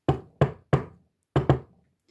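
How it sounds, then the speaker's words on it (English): Knuckles rap on a shop door at the back of a market: three quick knocks, a short pause, then two more, crisp and close with no other sound around them. "My Gran does her funny little knock and tells me to wait"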